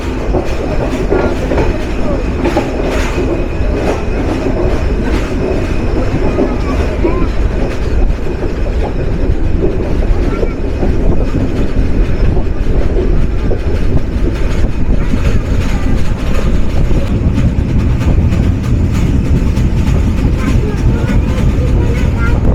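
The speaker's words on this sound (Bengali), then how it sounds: "তিন মিনিট বিরতি সম্পূর্ণ করে রাজশাহীর ধূমকেতু এক্সপ্রেস যাত্রা শুরু করলো" Dhumketu Express train pulling out of a station in Sirajganj, bound for Jamtail Junction, with steady loud rumbling and clattering of wheels on rails throughout, and faint voices mixed into the noise.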